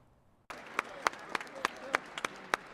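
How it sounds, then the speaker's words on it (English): Supporters applaud Health Secretary Robert F. Kennedy Jr. inside a state capitol at the first stop of a food-policy tour, with steady crowd clapping that starts abruptly and carries sharper individual claps and a few whoops. "Health Secretary Robert F. Kennedy Jr. was met with applause from supporters in the state capitol on the first stop of his Eat Real Food tour"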